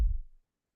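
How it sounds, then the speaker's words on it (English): A single muffled heartbeat thump, low and dull as if heard through a closed torso, a brief game sound effect that decays within half a second into silence. "the heartbeat basically gets muffled by all the skin and flesh and stuff that is basically your torso"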